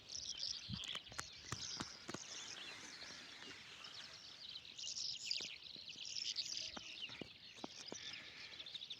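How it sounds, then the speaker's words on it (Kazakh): A nightingale sings outdoors at dawn near grazing pasture, faint and distant high chirping phrases repeated through a quiet open-air background with occasional soft clicks. "Бұлбұлдың сайрауын қараңдар, тыңдап көріңдер."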